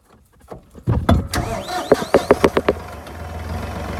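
A Massey Ferguson 4709 tractor engine cranks with a few rhythmic turnover bursts, catches, and settles into a low, steady idle.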